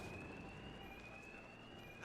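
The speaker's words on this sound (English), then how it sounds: "these thugs can't hear a thing over the alarms" A steady electronic alarm tone blares throughout in Arkham Knight, holding a constant pitch over a dense, noisy game background.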